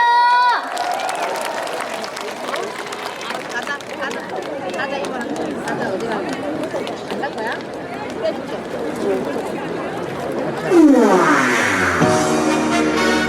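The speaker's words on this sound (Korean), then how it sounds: "박수 한번 주세요" An outdoor festival crowd at a concert at the Seongju melon and life culture festival applauds and cheers with a dense, continuous wash of claps and chatter, then music starts near the end.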